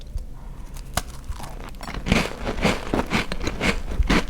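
Someone bites into a crispy cookie, with quiet crinkles at first and then a run of close, sharp crunches and chewing in the second half.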